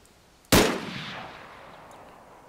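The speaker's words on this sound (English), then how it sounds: "Shooting the windows out." A single sharp gunshot in the game US49 cracks out loud and close as windows are shot out, its report trailing off into a long fading echo with no talking.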